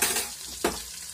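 Chicken frying in a pan with turmeric added, a short burst of hot oil sizzle with one sharp stirring scrape in the middle.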